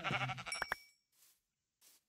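Sheep bleating in a survival video game set in freezing cold, one clear nearby bleat followed by two fainter short calls after a pause.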